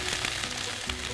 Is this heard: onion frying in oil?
yes